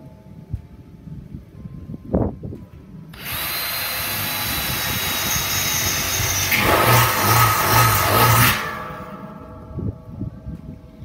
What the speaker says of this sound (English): It gives the drill bit something to bite.